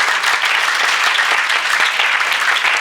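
A church congregation claps together during a sermon. The applause is dense and sustained, close and steady from start to finish, with no voices over it.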